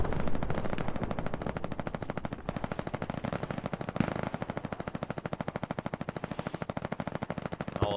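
Rapid, sustained machine gun fire in the WWII shooter Hell Let Loose, with dense regular bursts of shots rattling steadily for the full stretch, fairly close, no speech.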